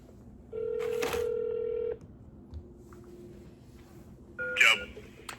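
A telephone is dialed to place a call, a steady dial tone giving way to a pair of electronic keypad tones, close and clear over low room noise, with no talk.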